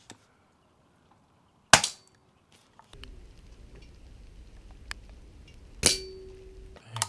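Airgun shots fired at crow targets outdoors, two sharp loud cracks a few seconds apart, each with a ringing metallic ping, plus small clicks and handling noise over faint background rumble.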